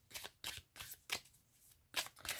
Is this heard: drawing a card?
yes